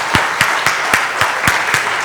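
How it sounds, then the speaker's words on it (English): Audience at a national trainers and speakers conference clapping in unison, about eight sharp, evenly spaced claps in a steady rhythm over a murmur of room noise. "Clap. Clap, clap, clap, clap, clap, clap, clap, jump."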